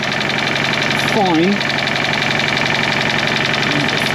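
A Fiat 500 TwinAir two-cylinder engine, just worked on for low oil pressure, idles steadily up close with a clunky, uneven knock, while someone talks briefly over it.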